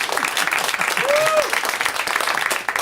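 A brief burst of audience clapping at a live comedy podcast taping, close and fairly loud, with talking running alongside it.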